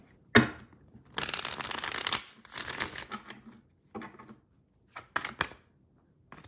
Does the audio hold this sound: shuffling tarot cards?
yes